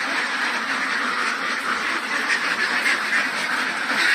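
A flock of 19-week-old R.T.L ducks quacking continuously and fairly close, a dense overlapping chorus being moved into a renovated duck house.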